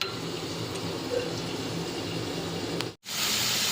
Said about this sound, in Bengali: এবার এই জিরের গুঁড়ো ধনের গুঁড়োর মধ্যে জল দিয়ে দিলাম।